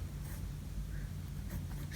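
Writing on a board during a lesson, heard as faint scratchy strokes in short bursts over a low room hum, with no one speaking.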